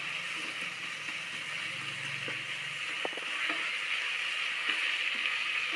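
Onions frying with salt in a pan for prawn biryani give a steady, close, bright sizzle with a few faint stirring clicks underneath.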